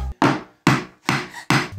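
A glass Coca-Cola bottle used as a hammer to drive a nail: four loud, sharp, evenly spaced knocks, close and alone.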